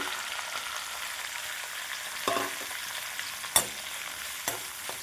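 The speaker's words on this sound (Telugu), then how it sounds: "ఉల్లిపాయలు గోల్డెన్ కలర్ వచ్చే వరకు ఫ్రై చేసుకోవాలి." Onions, curry leaves and green chillies fry in a pan with a quiet, steady sizzle. A spoon scrapes and stirs now and then, with a few sharp clinks.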